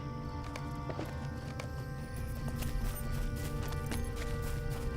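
Goat mount hoofbeats in the Lord of the Rings Online video game, a steady run of clopping steps over a low continuous background hum, fairly even and moderately loud throughout.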